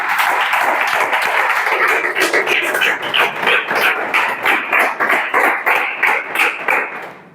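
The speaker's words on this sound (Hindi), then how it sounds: "जोरदार ताली बजाओ जी" A classroom of students claps loudly together, a dense burst of applause that gradually settles into a more uneven, rhythmic clapping toward the end, with no talking over it.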